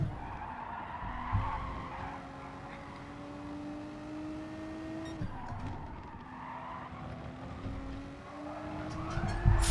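A race car in Gran Turismo Sport skids with long, drawn-out tyre squeals that slide in pitch over a continuous engine drone, with a brief break midway before the squealing resumes.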